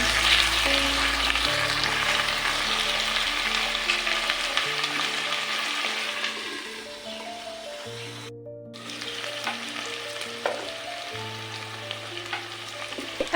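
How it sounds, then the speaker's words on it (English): Onions and potatoes frying in a pot with curry powder and Royco, a steady sizzle with occasional stirring scrapes, close and fairly loud throughout, with a brief gap partway. "Cooking the onions, I added my potato in mix."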